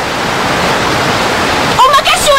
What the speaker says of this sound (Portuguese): Uma cachoeira! Não pode ser!